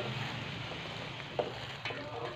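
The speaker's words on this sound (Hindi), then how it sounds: "अब इस छबी में हम ये सवैयाँ डालेंगे" Vermicelli (seviyan) frying in a pan, heard as a steady, close sizzling hiss broken by a couple of faint clinks, with no talking.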